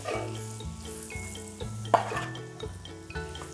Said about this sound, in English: All right, so we're just gonna saute those up.